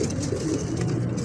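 Pigeon cooing, low and continuous through the whole stretch, close and steady, from a crossbred pigeon of mixed breed in a fancy pigeon-keeping setting.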